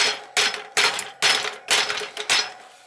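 A hammer strikes a stuck adapter in the dropout of an old bicycle being upgraded to a Shimano Cues 1x11 drivetrain. Five sharp metallic blows land at roughly even intervals, close and loud, with no talking.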